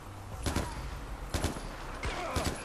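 Gunfire in Far Cry 4, several sharp shots in separate bursts, a single crack and then quick pairs spread over a few seconds, with a voice talking beneath.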